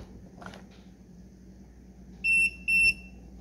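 Two short, bright electronic beeps sound in quick succession from a Tesmen TWS-322 wire stripper with a built-in voltage detector as it powers on, loud and clear over a quiet room.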